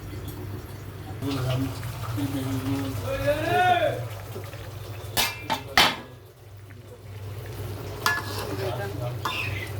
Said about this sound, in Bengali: এখন ঢাকনা দিয়ে দিই